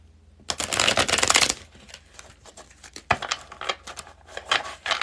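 A new, stiff deck of cards is riffle-shuffled up close: a loud burst of fluttering snaps, then quieter bursts of rapid card flicks and taps.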